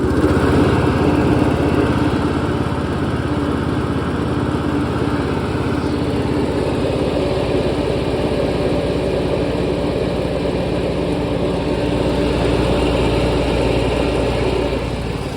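A riding lawn mower engine running at low RPM with the cutting deck engaged, a loud, steady mechanical drone with a low throbbing hum that holds constant throughout, no voices.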